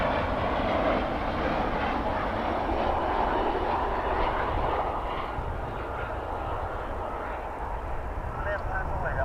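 An Avianca airliner in Star Alliance livery moves at Dallas/Fort Worth airport, giving a broad, steady jet engine roar that holds throughout at moderate distance.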